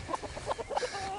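A short burst of chickens clucking nearby, several quick choppy clucks in a row.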